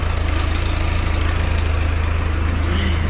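A small mini forklift engine idles steadily nearby under alternator load, a constant low chugging rumble with an even rapid pulse and no talking.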